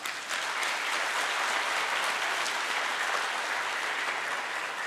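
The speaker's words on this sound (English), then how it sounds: "I want you all to praise him with another huge round of applause." A large audience at a religious conference session in Hyderabad gives a loud, sustained round of applause, thick and continuous from start to finish with no voices over it.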